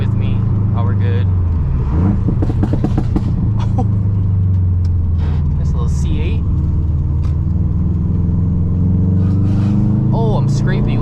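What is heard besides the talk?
Stage 2+ Subaru WRX STI loud exhaust while driving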